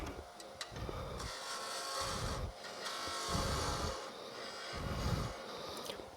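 A lathe tool cuts glued-up, plywood-like wood while a miniature hollow form is turned, making repeated rhythmic scraping and rasping strokes about every second, close and alone.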